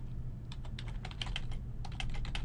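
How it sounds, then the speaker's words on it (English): Clicky keystrokes on a computer keyboard come in quick irregular bursts with brief pauses, close and fairly quiet over a faint background hum. "So they can just click on their slide and start typing."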